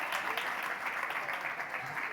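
An audience at a startup conference claps in steady, dense applause for the whole stretch, fairly close and even.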